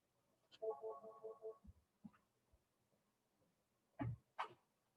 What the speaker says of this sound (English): The phone's ringing now.